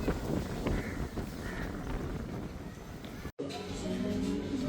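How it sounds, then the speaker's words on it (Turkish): Strong wind buffets the microphone in a steady broadband roar in Thimphu, Bhutan, briefly cutting out near the end before resuming. "Çok rüzgar başladı."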